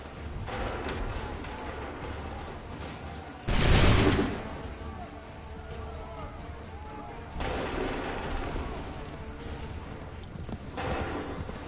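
Musket volley fire in Assassin's Creed 3 Remastered, with one loud booming burst of massed shots and some fainter crackling shots afterward, over shouted battle commands and background din.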